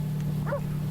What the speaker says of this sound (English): the dog definitely approved